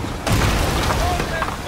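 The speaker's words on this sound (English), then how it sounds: "Right side cannon." A ship's cannon booms in Sea of Thieves: one heavy, close blast with a rumbling tail, with voices faintly underneath.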